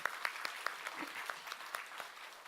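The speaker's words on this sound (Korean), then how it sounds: "사랑과 축복의 박수 부탁드리겠습니다." A church congregation at a Korean worship service applauds after a prayer, giving a steady, fairly quiet wash of many hands clapping at a moderate distance, with no talking over it.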